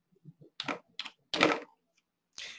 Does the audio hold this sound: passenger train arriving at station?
no